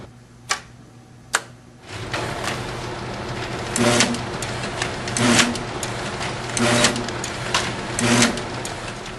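OKI proColor pro900DP printer feeder running steadily, with a continuous low mechanical hum and periodic louder clattering pulses of the paper-handling mechanism repeating every second or so, preceded by two sharp clicks.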